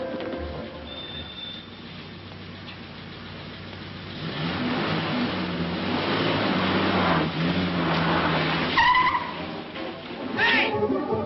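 An old car in a 1946 comedy film starts and drives away: a low engine hum swells into a rising, rumbling pull that grows louder over several seconds, with brief higher squeaks near the end.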